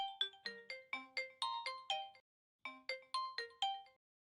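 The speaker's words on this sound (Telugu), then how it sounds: "నీలు నీకు ఫోన్ వచ్చింది" A melodic phone ringtone plays in two bursts of quick, bright tones separated by a short pause, clear and fairly quiet.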